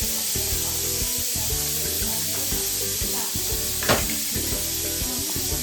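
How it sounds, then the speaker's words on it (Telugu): Whole cloves, cardamom, cinnamon and shahi jeera frying in a pan for Hyderabadi chicken dum biryani: a steady close sizzle, with scraping stirs and one sharp clink near the end. "మనం గరం మసాలాలు వేసుకోవాలి. లవంగా, ఇలాచి, పట్ట, సాజీరా వేసేసుకోవాలి. వేసుకొని బాగా కలుపుకోవాలి."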